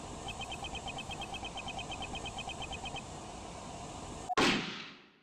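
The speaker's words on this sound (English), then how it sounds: "Wait, that noise. That was a gunshot." A gunshot sound effect from the video game Ace Attorney Investigations 2: one loud sharp bang near the end, trailing off in a short decay, after a steady buzzing electronic hum with a rapid pulsing beep.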